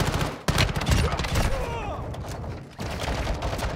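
Rapid gunfire in Call of Duty Warzone 2.0 played in third-person mode, dense bursts of shots and impacts filling the clip, loud and close, with players talking over the action.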